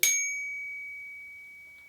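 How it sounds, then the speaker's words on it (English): A single bright ding from a titanium Knog Oi! bike bell, struck once and ringing out with a long, clear, slowly fading tone, alone and close. "I feel the titanium bell has a very, very nice ring to it"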